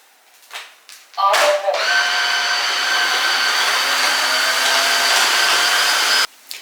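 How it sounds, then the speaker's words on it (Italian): A household vacuum cleaner switches on after a few knocks and runs with a steady, loud whining hum for several seconds before cutting off abruptly. "Passo l'aspirapolvere."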